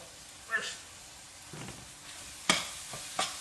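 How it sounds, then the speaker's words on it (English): Seasoning is stirred into cooked Conecuh sausage in a pan, giving a soft frying sizzle under a few separate scraping strokes of a spoon, with a louder clack near the end. "get your seasoning stirred in"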